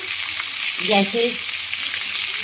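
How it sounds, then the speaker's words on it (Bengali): Ginger, green chilli and capsicum sizzle in a pan over a low gas flame, a steady broadband frying hiss with a brief soft scrape of stirring in the middle, close and fairly loud, no voices. "গ্যাসটা লো ফ্লেমে রেখে এগুলোকে একটু হালকাভাবে নেড়ে চেড়ে নেব"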